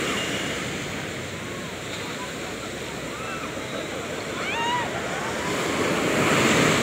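Ocean surf at a beach resort in Nasugbu, Batangas, as the tide comes in: a continuous, fairly faint wash of breaking waves with some wind rumble, swelling slightly toward the end.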